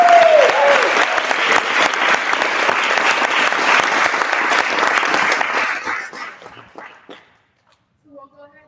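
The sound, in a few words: audience applause at speech home show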